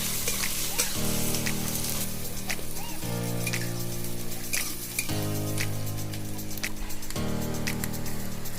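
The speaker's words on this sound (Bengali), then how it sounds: "এগুলো খুব ভালোভাবে ভেজে নেব।" Green chillies frying in a pan for a chicken curry make a continuous, close sizzle with occasional stirring scrapes, all under a sustained tonal background that shifts pitch every couple of seconds.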